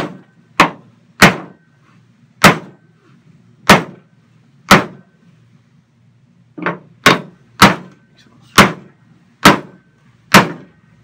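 A brass hammer strikes steel eleven times, sharp ringing blows at an uneven pace with short pauses between them, loud and close with no talking.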